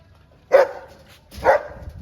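A dog gives two sharp barks about a second apart, close and fairly loud, with quiet in between.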